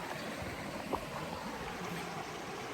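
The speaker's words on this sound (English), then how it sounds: "look at this beautiful eddy I'm sitting at in front of this nice rapid." Rushing water of a river rapid beside a brook eddy at a camping spot, a steady close roar with no voices.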